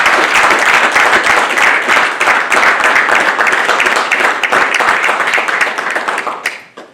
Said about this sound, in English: Families, please join me in a round of applause for the Navy's newest third-class petty officers.